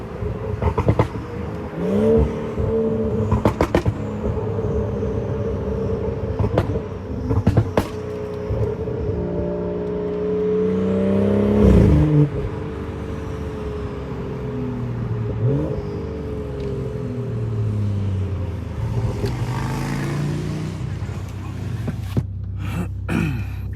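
A Stage 2 tuned BMW 540i with a B58 engine drives at night, its engine rising and falling through repeated revving pulls, with a loud surge midway and steady road noise between.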